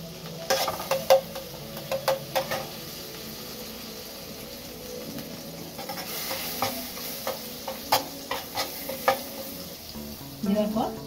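Grated garlic sizzling in butter in a pan, a quiet continuous fry broken by intermittent scraping and stirring clicks through the clip.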